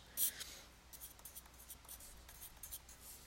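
A pen or pencil writing out a math equation on paper, heard close as soft, scratchy strokes in short uneven bursts across a few seconds, with no voices.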